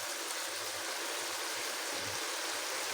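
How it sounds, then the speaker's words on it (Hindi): Water poured into fried masala in a cooking pot for Punjabi chicken pulao, a steady hissing, gushing stream that runs evenly and fairly softly the whole time, with no talking over it. "मैं इसमें पानी ऐड कर रही हूँ"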